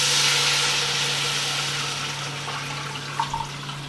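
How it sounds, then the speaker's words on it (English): Water pours into a hot pan of toasted spices for an Israeli-style dinner, a steady rushing splash that starts loud and slowly fades, with a few small clanks near the end. "now I'm going to go ahead and add in my water"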